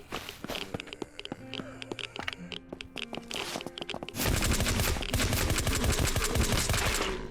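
Rapid handgun fire in the zombie survival game SurrounDead, a sustained dense burst of shots emptying a fifteen-plus-one round magazine, loud and close, following quieter footsteps and scraping movement.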